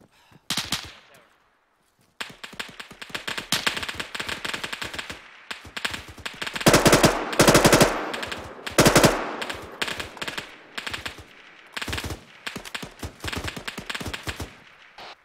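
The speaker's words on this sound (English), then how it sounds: "Just want to tell you to start shooting the top of that tower." Automatic machine gun fire during an Arma 3 military battle on Wake Island, heard as dense rapid bursts with heavier volleys in the middle, close and loud, with no talking.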